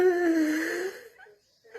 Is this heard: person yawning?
yes